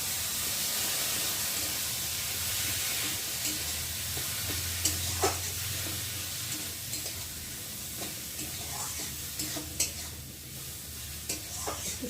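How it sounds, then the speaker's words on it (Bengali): Soaked masoor lentils stirred and fried with spices for dal tarka, a steady sizzle with scraping spoon strokes and occasional clinks throughout, close and continuous with no talking. "একটু ভালো করে নেড়ে দেবো।"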